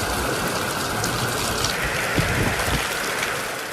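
Sudden evening rain falls in Erode district, Tamil Nadu, a dense, steady hiss of drops on surfaces with occasional louder patters, continuous throughout and with no voices.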